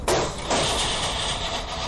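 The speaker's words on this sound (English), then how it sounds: "That's the sound of a normal switchgear circuit breaker open-close operation during a test" A medium-voltage switchgear circuit breaker running a normal open-close operation during testing: two sharp mechanical clunks about half a second apart, followed by a steady, loud broadband mechanical wash.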